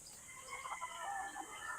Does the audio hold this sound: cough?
no